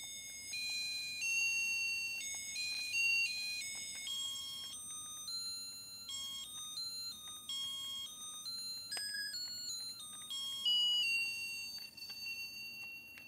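A small circuit-bent toy keyboard with black keys and a metronome plays shrill, electronic beeping tones that step rapidly up and down in pitch, with continuous glitchy melodic runs heard alone at moderate volume.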